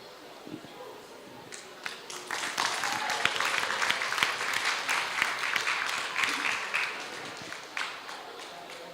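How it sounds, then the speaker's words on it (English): Applause for a third-place award winner at the Falling Walls Lab Indonesia 2024, a crowd of many hands clapping in a sustained, moderately loud burst that fades toward the end, with a voice over it. "round of applause to Mr. Fausan."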